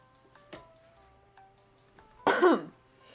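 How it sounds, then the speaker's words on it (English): A single harsh cough bursts out loud and close, a brief rough burst against a quiet background. "I'm gonna be coughing a lot, and I apologize."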